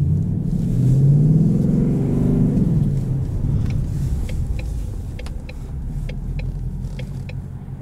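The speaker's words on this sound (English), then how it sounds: "Putting it in track mode also opens it up to track exhaust," Loud, deep exhaust rumble from a 2020 Ford Mustang GT Premium with the Performance Package and automatic gearbox, track exhaust mode open, swelling early then settling into a steady close drone with light clicks, no talk.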